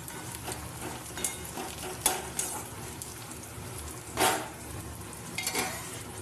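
Onions and green chillies fry in a pan for ghugni, a soft steady sizzle under repeated spatula scrapes and stirring clatters against the metal, close and moderately quiet with no talk.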